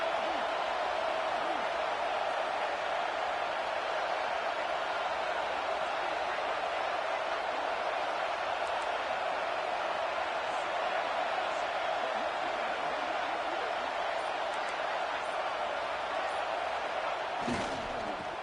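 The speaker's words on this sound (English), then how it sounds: "And here comes the noise. This crowd is trying to inspire this defense to make a big red zone stop." A college football stadium crowd roaring as the home defense faces a red zone stand late in the game: a loud, sustained wall of cheering and noise that holds steady throughout, with one sharp bang near the end.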